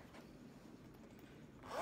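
Near the end, a quiet fabric rustle gives way to a short zipper pull on a handmade lined project bag with a 14-inch top zipper.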